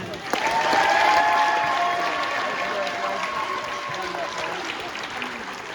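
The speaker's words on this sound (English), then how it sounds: "Let's have a round of applause for Logan." An assembled student crowd in a high school gym applauds a newly crowned homecoming king at a pep assembly, the clapping swelling then holding steady, with some voices mixed in.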